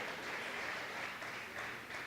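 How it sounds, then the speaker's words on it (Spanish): Church congregation gives a sustained burst of applause at a worship service, steady dense clapping throughout with no voices on top. "Dale un fuerte aplauso al que vive."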